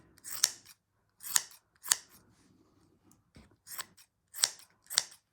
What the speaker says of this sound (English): the scissors sound rather loud